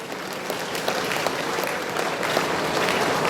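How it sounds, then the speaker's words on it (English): A congregation at a bishop's episcopal ordination claps continuously, a dense, loud wash of many hands filling the space with no pauses. "May I request all of you to please give a huge round of applause."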